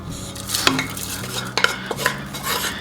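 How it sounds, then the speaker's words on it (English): A spoon stirs venison chowder with vegetables and meat in a pot, making soft scraping and sloshing sounds with a few sharp clinks against the metal over a faint simmering hiss, close by and with no talking. "Giving that a stir, get everything incorporated."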